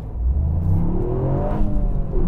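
A car engine revs hard and steadily, close up, during a brake test of a light 1,280-kilo car, with rising and falling pitch and no talk.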